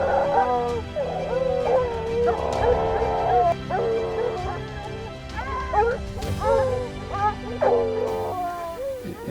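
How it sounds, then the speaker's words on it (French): A pack of about ten hunting hounds bays and yelps in the mountains of the Ossau valley, overlapping barks, whimpers and howls forming a loud, continuous chorus. "quand on a une dizaine de chiens, ça fait quand même pas mal de bruit"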